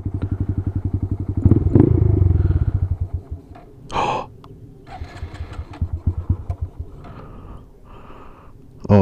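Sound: Honda Grom motorcycle engine choking and sputtering

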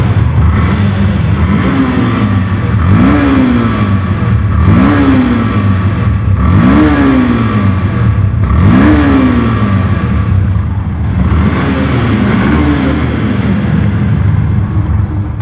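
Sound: Yamaha FZ-2 motorcycle engine revving

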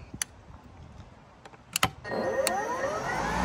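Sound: battery-powered lawnmower starting up and running

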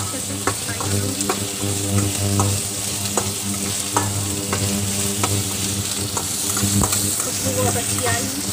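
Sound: frying onions and green chillies in a pan

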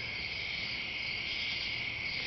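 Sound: crickets, cicadas and katydids chirping at night

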